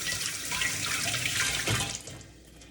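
Water runs steadily from a kitchen tap while hands are washed, a close, full splashing stream for about two seconds before it thins and quiets toward the end.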